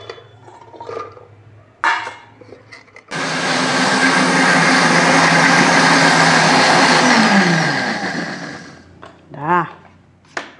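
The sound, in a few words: blender grinding chili spice paste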